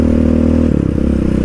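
A Yamaha Raptor 700 quad's engine with dual exhaust rumbles loudly nearby, a steady low drone that shifts pitch slightly as it passes, with some rattling.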